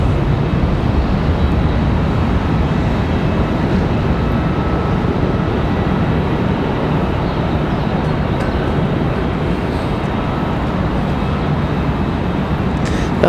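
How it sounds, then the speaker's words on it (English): An American Airlines Boeing 737 departing Raleigh-Durham International Airport gives a steady, loud broadband jet roar that holds without letup, with no voices. "That last departure is headed to Miami. That American 737."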